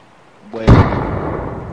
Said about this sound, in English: Those are grenades coming from the hot zone.